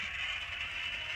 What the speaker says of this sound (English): a little beep in the background telling you that you're on an unsecured channel